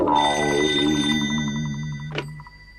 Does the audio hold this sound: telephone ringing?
yes